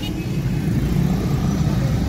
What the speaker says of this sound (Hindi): आप देख रहे हैं ना सामने से जो आ रही है ट्रैफिक, वो शेखुपुरा की तरफ जा रही है ना